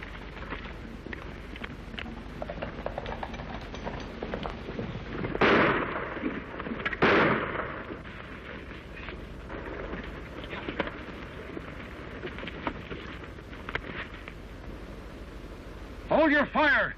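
Gunfire in a Western shootout, with sharp loud reports around six and seven seconds and a burst near the end, set against a steady musical hum and dialogue.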